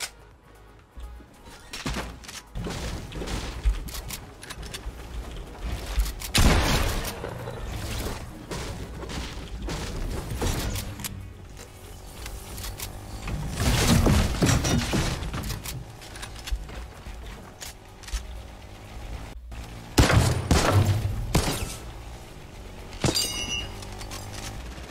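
Infantry rifle gunfire in a video game: bursts of shots cracking out at irregular intervals over a busy backdrop of game noise, with louder clusters around the middle and again near the end.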